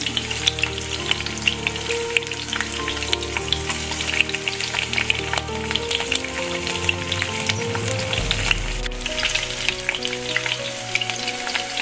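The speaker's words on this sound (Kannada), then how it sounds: "ಈಗ ನಾನು ಒಂದು ಟೊಮೊಟೊ ತೊಗೊಂಡಿದ್ದೆ ಸ್ನೇಹಿತರೆ ಅದನ್ನು ಫ್ರೈ ಮಾಡ್ಕೊಳ್ಳೋಣ" Tomato frying in hot oil in a kadai for paneer gravy gives a steady, close crackling sizzle that runs unbroken throughout, with no talking.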